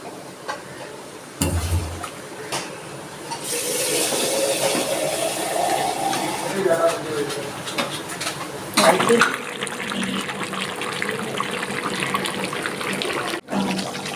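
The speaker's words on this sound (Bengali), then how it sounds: "আমি একটু জল দিয়ে ফুটাবো।" Water is poured into a pot of mutton kosha as it cooks, a steady splashing pour under a busy kitchen background with a brief louder burst near the end.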